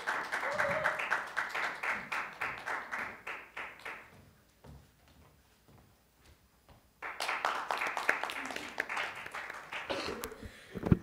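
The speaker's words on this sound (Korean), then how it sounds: "하나고등학교에서 온 김지수 학생의 연설을 박수로 들어보겠습니다" An audience claps for a high school student about to give a speech, a steady round of applause that breaks off into near silence midway, then resumes strongly before fading.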